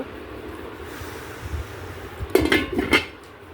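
Newly bought metal cookware, including a nonstick kadai, is handled, giving two or three close, bright clanks and rattles near the end after a quiet, low-humming stretch with no talk.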